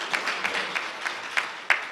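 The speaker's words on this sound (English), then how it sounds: "Coach Carnell Maynard, please give him a warm round of applause" Applause from a press conference audience honoring Coach Carnell Maynard at Alabama A&M, a light, steady patter of clapping with a few sharper individual claps standing out, moderately distant, no talk over it.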